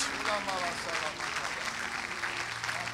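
A church congregation clapping during a prayer and prophetic service, a steady patter of applause running the whole time beneath a voice that speaks and sings over it.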